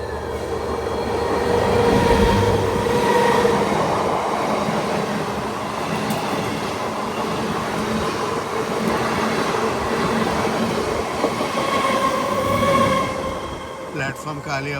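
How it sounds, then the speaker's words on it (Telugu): A MEMU electric passenger train pulls in and halts on the neighbouring track at a junction, a steady rolling rumble with faint wheel squeal that eases off near the end, heard from a waiting train with people talking over it. "పక్క లైన్లో ఇంకో బండి వచ్చి ఆగింది. ఓ మెమో బండి"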